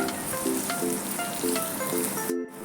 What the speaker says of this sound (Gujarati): કેરીને આપણે થોડું તેલમાં સાતરી લેવાની છે બે પાંચ મિનિટ સુધી